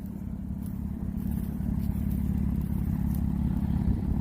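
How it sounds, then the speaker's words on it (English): A Porsche Boxster off-road build with a stock engine, Tiptronic transmission and custom exhaust idles or runs with a loud, steady, deep rumble close by, with some light clatter and no talking. "Engine transmission are pretty stock. It's a Tiptronic transmission, manually shifted automatic, custom exhaust."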